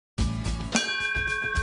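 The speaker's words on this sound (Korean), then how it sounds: "수업종이 울리고 오늘의 일정이 시작됐습니다." School class bell at a farming college chimes to start the day's lessons, a clear ringing tone with sustained overtones and a second struck note partway through, heard alone with no talk.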